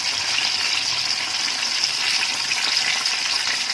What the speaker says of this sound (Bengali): দেখুন কেমন সুন্দরভাবে ফ্রাই হচ্ছে।